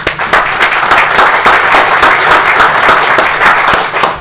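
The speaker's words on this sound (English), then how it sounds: "I want to offer him a round of applause for his assistance" Symposium attendees at a Kansas Lewis and Clark event give loud, sustained applause for a project helper, with many distinct claps rising in a continuous burst close by and no talk over it.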